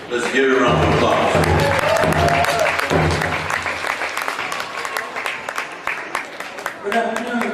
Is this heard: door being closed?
no